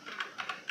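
Quiet, close clicking of a computer keyboard as a short Linux copy command is typed, four or five quick keystrokes with nothing else heard.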